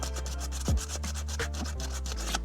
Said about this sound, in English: I would go ahead with my sandpaper and I'm just going to keep hitting that spot